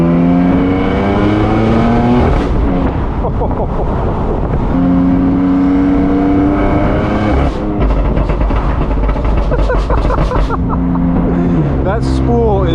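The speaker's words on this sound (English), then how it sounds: "That spool is wild. So this is a full M Performance titanium exhaust here with the VRSF downpipes like our M6." A 1000 hp BMW M4 F83 convertible with a full M Performance titanium exhaust and VRSF downpipes revs and accelerates loudly up close. Turbo spool whines rise through repeated pulls, with crackles and pops between gear changes.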